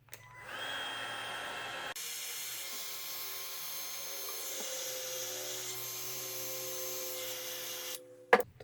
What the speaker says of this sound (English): one common application for this heat gun is probably going to be heat shrink tubing